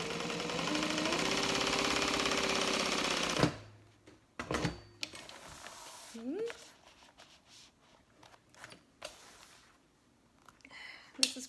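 A sewing machine runs fast and steady while topstitching a fabric bag, a loud continuous whir for about three seconds. It then stops, leaving scattered handling clicks and rustles.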